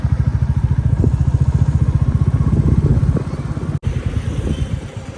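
A motorcycle engine running close by while parking in a mountain area, a steady low rhythmic putter with a brief cut before it carries on.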